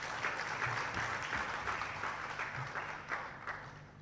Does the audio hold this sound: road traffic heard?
no